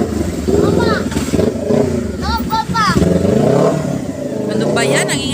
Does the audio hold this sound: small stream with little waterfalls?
no